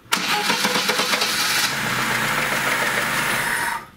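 A Lada Niva engine cranks briefly and catches at once, settling into a loud, steady rough idle close by, running alone for a few seconds before cutting off.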